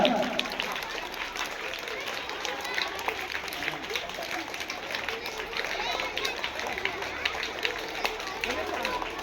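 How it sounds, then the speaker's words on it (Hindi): A school audience at a Children's Day celebration applauds continuously, a dense, even wash of many hands with crowd babble mixed in throughout. "तालियां बजती रहनी चाहिए"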